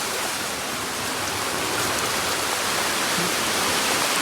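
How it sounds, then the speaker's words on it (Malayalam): Water pouring steadily through a connected hose during heavy rain, a loud, continuous broadband splashing rush with no pauses, close to the mic. "ഇങ്ങനെ ഓസ് കണക്ട് ചെയ്തുകൊണ്ട് വെള്ളം വീഴുന്നുണ്ട്."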